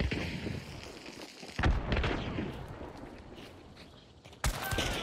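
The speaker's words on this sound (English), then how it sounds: "Grenades." Grenade blasts in a bayou multiplayer shooter game, two sharp booms about three seconds apart over a steady rumble of gunfire and ambient battle noise.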